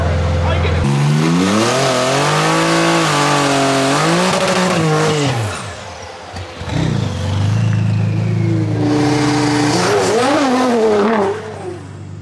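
Street race between a Nissan GTR and a Cadillac ATS-V in Chicago, engines revving hard and climbing through gears loudly nearby, easing off midway before surging again, with people talking over the roar.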